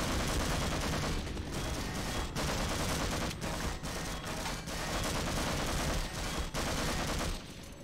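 Sustained turret gunfire in the video game Half-Life, a dense, continuous burst of rapid shots lasting several seconds, loud and close, with brief gaps between volleys and no talking.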